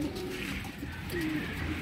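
Pigeons coo softly from a loft in Lahore, a low steady murmur running through the short stretch with no voices over it.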